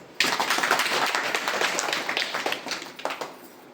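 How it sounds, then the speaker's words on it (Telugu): Audience clapping breaks out after a brief pause and carries on steadily, with scattered louder claps near the end as it thins slightly. "కొట్టం చప్పట్లు."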